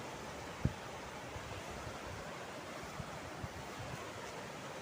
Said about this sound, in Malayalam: ശാന്തമായിട്ട് ഒഴുകുന്ന പുഴ